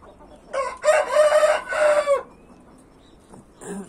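A light-colored hen on a farm gives a loud, drawn-out squawking call in one sustained burst of about a second and a half, followed by quieter clucks against faint background noise.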